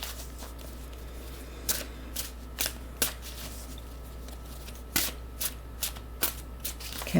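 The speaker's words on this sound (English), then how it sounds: "Couple more shuffles for Sagittarius." A deck of tarot cards riffled and shuffled by hand at close range, in short, uneven bursts of crisp flicking over a constant low hum.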